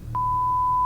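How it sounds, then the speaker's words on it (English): A sustained censorship beep, a single steady electronic tone of about a second, covering profanity spoken by a phone scammer, loud and alone over faint low background hum. "if I beeped it out, it would sound like this"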